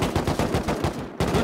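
Rapid automatic gunfire from an online survival shooter game during a server raid, a loud, dense burst of shots in steady rhythm with a brief gap before it resumes.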